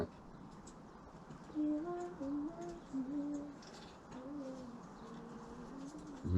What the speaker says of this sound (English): Must be a nightingale of sorts.